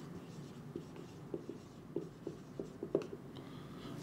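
A pen writing on paper while filling in an accounting sales journal, a quiet steady scratching with small rhythmic strokes and taps, close and faint, with no voices.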